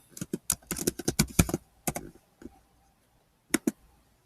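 Computer keyboard keys tapped in quick bursts while a folder is renamed, clustered clicks for about a second and a half, then a few scattered taps and a final pair of keystrokes, close and clear with no talking.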